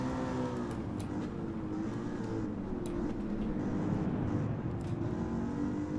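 Shelby GT350R engine driving at Daytona in Gran Turismo 7, a steady, continuous droning engine note with a faint high whine, held at a constant level throughout.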